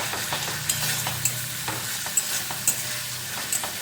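Spice masala for Bengali katla kaliya (fish curry) fries and is stirred in a pan, a steady close sizzle broken by sharp spatula taps and scrapes, with no voices.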